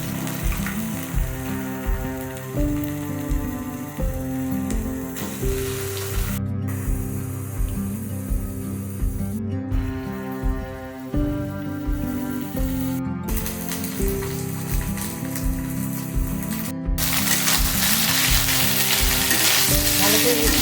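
Food fries in a hot pan, a loud continuous sizzle with a bright hissing spray that swells toward the end, over a steady rhythmic background pulse.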